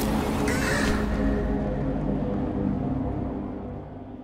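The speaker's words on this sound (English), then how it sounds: "Crows mess everything up." Crows cawing in the video game Little Misfortune, a short harsh burst of calls near the start over a dense noisy game backdrop that slowly fades away.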